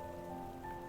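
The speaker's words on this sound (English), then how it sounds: "It's just rain." Steady rainfall in the video game Night in the Woods, a continuous even patter sitting under a tonal musical drone, with no voices heard.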